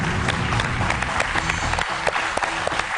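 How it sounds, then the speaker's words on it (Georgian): Steady applause from a studio audience at a television quiz show, a dense wash of many hands clapping at fairly close range that carries on evenly throughout without anyone speaking. "კარგი აპლოდისმენტები."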